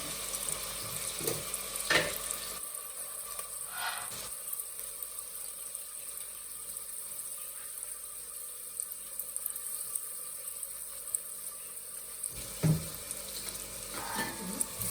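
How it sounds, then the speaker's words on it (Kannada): Ingredients for methi (fenugreek) rice frying in a pan toward golden with salt added give a steady, close sizzle, broken by occasional stirring scrapes. "ಗೋಲ್ಡ್ ಕಲರ್ ಬರೋ ಥರ ಫ್ರೈ ಮಾಡ್ಕೊಳ್ಳೋಣ."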